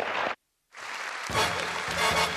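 Studio audience applause on a Spanish TV variety show: a loud wash of clapping breaks off for a moment, then returns while music rises underneath.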